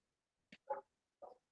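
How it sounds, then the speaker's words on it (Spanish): Small dogs bark in the background of an indoor online lecture, three short, muffled yaps spread over about a second, faint and somewhat distant. "me van a disculpar si escuchan a mis perritos ladrar por allá"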